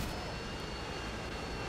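Harrier jet strike in the Modern Warfare 2 video game, a dense continuous roar of jet engine noise filling the short moment, loud and steady without pause.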